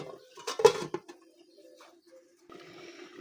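A metal lid set onto a pot of small mola fish curry, giving a sharp clatter near the start, followed by quiet stove noise and a soft simmering hiss near the end.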